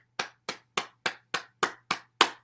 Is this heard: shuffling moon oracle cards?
no